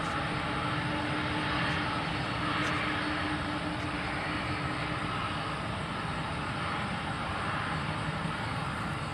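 An MD-11 freighter's engines roar in a steady, unbroken drone on the runway at Louisville, loud and constant throughout with no pauses.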